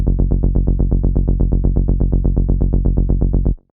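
Synth notes in a steady 1/16 rhythm for a melodic techno track: about thirty even, punchy, bass-heavy plucks repeating evenly and loud, alone, then stopping abruptly.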